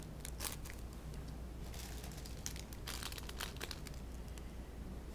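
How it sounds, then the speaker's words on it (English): Plastic wax melt packaging crinkles and crackles steadily throughout, with denser rustling bursts scattered across it and no talking. "Sorry for the crinkling."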